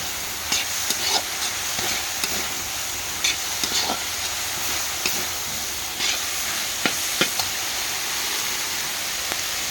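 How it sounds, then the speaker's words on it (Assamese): Steady sizzling and hissing of fiddlehead fern greens frying in a pan, with occasional clinks and scrapes of stirring throughout, no talking. "ঢেকীয়াখিনি এনেধৰণে অলপ ভাজি ল'ব লাগে"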